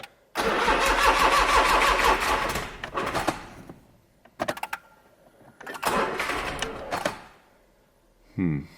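A small Smart Roadster engine cranks and catches, runs briefly, then cranks again in repeated bursts with pauses between them, close by.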